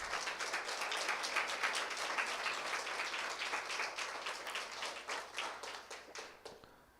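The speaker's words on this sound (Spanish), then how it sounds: "Dele el aplauso al Señor." A church congregation applauds the Lord, dense clapping that stays strong and then thins into scattered claps as it fades out.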